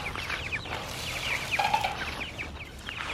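Chickens on a farm cluck and chatter as a busy flock, steady overlapping calls at moderate distance with some outdoor background noise.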